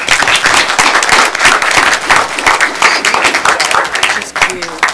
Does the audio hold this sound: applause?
yes